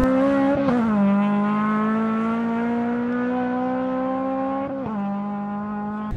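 A Honda S2000 launching on its first drag strip run, engine note climbing loud and steady through the gears with brief dips at each shift, close and continuous with no talk.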